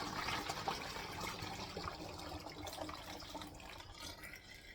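Three cups of warm water pour steadily from a container into a plastic spray bottle, a continuous close gushing and splashing that slowly thins out toward the end, with no talk over it.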